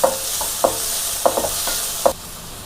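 Chopped tomato fries in a pan for street-style egg fried rice. A bright, steady sizzle runs under several sharp clacks of a spatula stirring against the pan, then drops off suddenly near the end. Nobody speaks.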